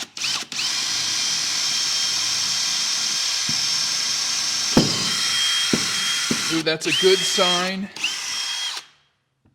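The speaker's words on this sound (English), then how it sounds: "I'm going to drill a small hole through the floor" A power drill whines steadily as it bores a small hole through a wooden floor, pausing briefly, then a few short bursts follow while a voice speaks near the end.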